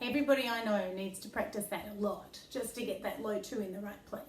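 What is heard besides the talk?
No everyday noise stands out behind the speech.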